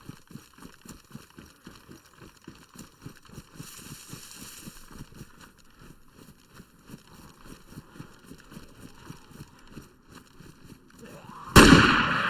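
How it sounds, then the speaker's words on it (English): Rifle gunshots in the survival video game DayZ: a sudden loud, sharp burst near the end, standing out over a steady rhythmic thumping bed of game sound. "these rifles are loud, aren't they?"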